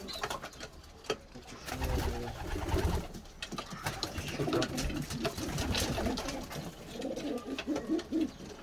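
Soft, low coos from a female pigeon repeat close by, with a few faint rustles and wing sounds in a quiet room.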